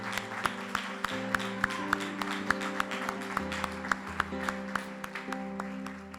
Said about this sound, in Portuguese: Você pode aplaudir a Deus pela vida do seu pastor?